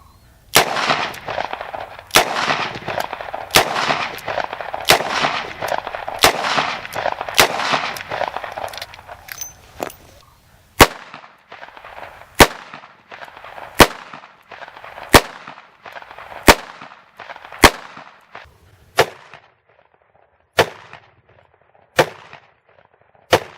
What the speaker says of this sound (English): We're going to fire 6 rounds at the high upper chest.